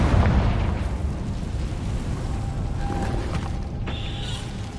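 A Confringo fire-blast spell from Hogwarts Legacy: a loud rumbling explosion bursts at the start and trails off into crackling debris and a low roar, with no voices.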